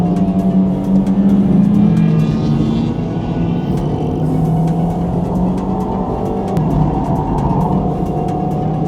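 Japanese classic cars racing on Tsukuba Circuit, a loud steady engine roar from several cars passing close and overtaking, with droning revs that rise and fall for the whole stretch and no talk.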